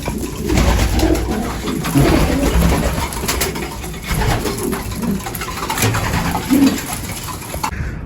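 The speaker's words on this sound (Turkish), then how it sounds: "Arkadaşlar güvercinimizi yakaladık." Captured pigeon coos repeatedly in low, throaty rolling phrases close by, steady throughout with faint background hum and slight handling noise.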